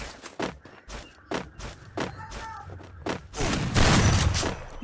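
Gunfire in a shooting video game: a run of sharp, separate shots with short gaps, then a denser burst of rapid fire near the end, loud and close.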